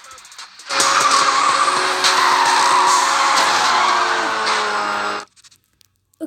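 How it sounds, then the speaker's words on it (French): A car drifting in a Need for Speed video game, with a loud sustained tire skid and engine roar lasting about four and a half seconds before cutting off abruptly. "je pars en drift"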